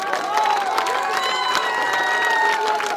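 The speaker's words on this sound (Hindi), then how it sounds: "ताली की गड़गड़ाहट" Crowd applause and cheering at an outdoor public meeting in Chiloth, Shivpuri, a dense continuous patter of many clapping hands with scattered shouts, steady and fairly loud throughout.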